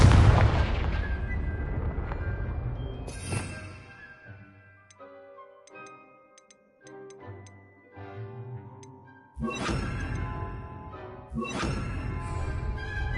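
Confringo explosion spells are cast in the video game Hogwarts Legacy, with heavy booming blasts at the start and again near the end, separated by quieter sparkling ticks and chimes.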